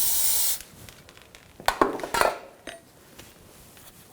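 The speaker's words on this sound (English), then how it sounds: "Take some brake parts cleaner." Brake parts cleaner sprayed onto the rear brakes of a 2006-2010 BMW 550i: a short, loud aerosol hiss, then a few light metallic clinks and taps.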